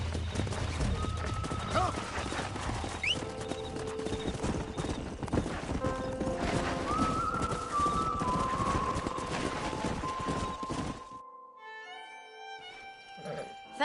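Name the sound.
stallion hooves and neighing in video game Red Dead Redemption 2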